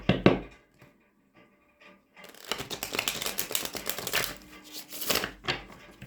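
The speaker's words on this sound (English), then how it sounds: "One more butterfly shuffle" A few light card taps, a brief pause, then a dense riffling shuffle of cards close by, fluttering in bursts for several seconds.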